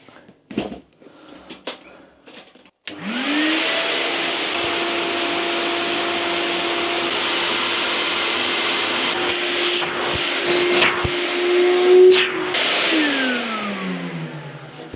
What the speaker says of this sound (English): so I've re-vacuumed up all that dirt